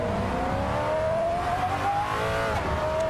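A Maserati Quattroporte engine drones steadily in Assetto Corsa at Donington, its pitch climbing slowly under hard acceleration and then dipping briefly before rising again. It is close and continuous, with no talking.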